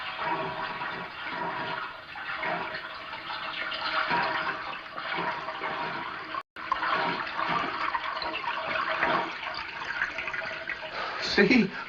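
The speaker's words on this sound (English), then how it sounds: "See? I told you it sounded like water running." Water rushes steadily from a flushing toilet in a 1942 murder-mystery setting, a continuous near hiss that cuts out briefly midway and resumes, ending with a gurgle.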